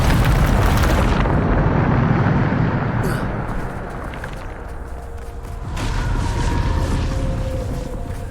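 Spell impact from the Depulso force-push spell in Hogwarts Legacy: a loud, dense rumbling blast that fills the first second, decays into a sustained roar, then surges again near the end, with a voice speaking over it.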